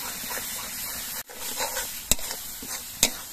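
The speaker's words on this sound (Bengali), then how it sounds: "গরম মশলার গুঁড়ো দিয়ে মিনিট খানেকের মতো আমি কষিয়ে নেব" Egg curry masala with ground garam masala is stir-fried in a pan: a steady crackling sizzle close by, punctuated by two sharp clacks of a spatula striking the pan.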